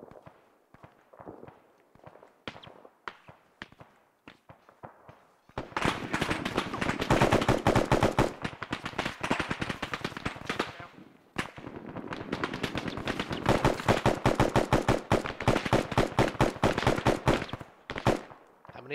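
Rapid automatic gunfire from a military video game, dense bursts of shots filling most of the stretch, with sparser single shots at the start and end and faint voices beneath.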